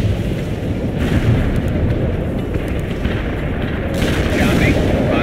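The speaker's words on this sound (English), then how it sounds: "Firing for effect." Artillery fire in a military video game: a loud, dense rumble of heavy booms rolling continuously, with bursts of distant gunfire layered over it and no clear voices.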